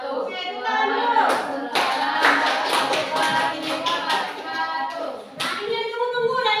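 A classroom group claps together during a teacher-training lesson, a dense patter of hand claps running about six seconds with children's voices and chatter mixed in underneath.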